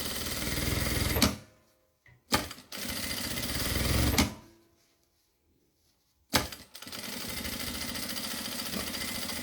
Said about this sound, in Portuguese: Primeiro a gente costura aqui bonitinho.